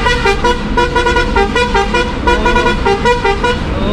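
Loud horn blasts from a Chilamboli bus, heard from its front cabin, a sustained harmonic honk running almost unbroken over engine and road noise, with no talk.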